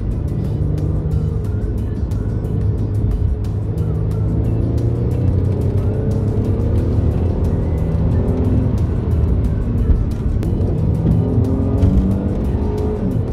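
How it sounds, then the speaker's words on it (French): Steady roar of a Mercedes C400 4MATIC engine (330 hp) under acceleration, with rising turbocharger whistles threading through the rumble, loud and close throughout. "le turbo, on l'a entendu siffler là"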